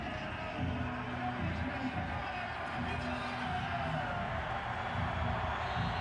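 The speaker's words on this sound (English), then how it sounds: "I think the whole stadium's giving him a cheer." Crowd in a football stadium at a CFL game between the Saskatchewan Roughriders and the Edmonton Eskimos, cheering in a broad steady roar with a broadcaster's voice talking over it throughout.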